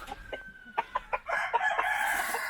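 Several chickens cluck in short bursts close by, then a rooster breaks into a loud, sustained crow.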